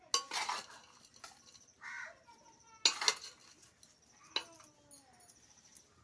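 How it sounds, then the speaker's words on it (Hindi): Vegetable curry and rice being mixed together on a plate: soft, irregular clinks and scrapes spaced over several seconds, faint and close, with no speech. "तो सब्जी और चावल को पहले सान लेते हैं, एक दूसरे में मिक्स कर लेते हैं"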